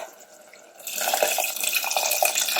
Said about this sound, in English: At this stage, I'm just going to add the tamarind pulp.